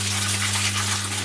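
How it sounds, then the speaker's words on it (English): Water pouring from a full watering can in a steady, rushing stream that holds even throughout, over a low constant hum. "first up I have here a watering can full of water"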